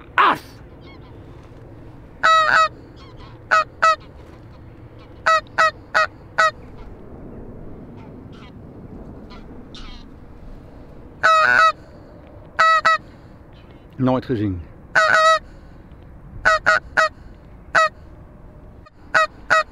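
Geese honk in short bursts of repeated sharp calls, fairly close, separated by quiet gaps, with a brief Dutch spoken remark in between.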